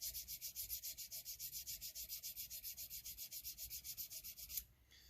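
Abrasive sanding rubs rhythmically over jumbo frets on a Jackson compound-radius guitar neck, about forty quick, even back-and-forth strokes that form a close, bright hiss and stop abruptly near the end.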